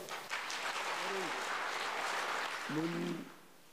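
An audience claps steadily at a Korean religious gathering, a dense wash of hands that runs for about three seconds before fading, with a couple of brief voices rising over it.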